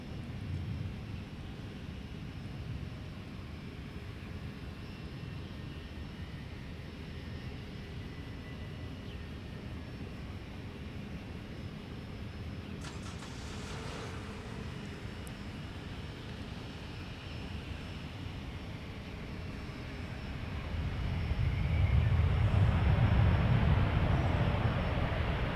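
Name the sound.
Delta 165 airliner arriving from Amsterdam at MSP airport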